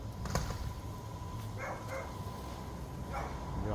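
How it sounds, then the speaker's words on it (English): A dog outdoors at sunset with a thunderstorm nearby gives a few faint, scattered barks and yips, distant and soft over a low background rumble. "Dog's out here watching."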